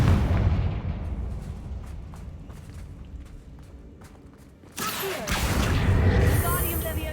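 A Confringo fire spell blast in Hogwarts Legacy bursts in partway through as a sudden loud whooshing impact that sustains and roars, after a stretch of low rumbling ambience with faint taps.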